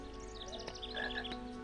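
A frog croaks in a Harry Potter video game, sounding faintly in short repeated bubbling calls over a steady low background hum of game ambience, with no talking.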